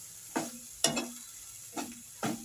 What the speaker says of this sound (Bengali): দেখো এটাকে কষে নিচ্ছি ভালো করে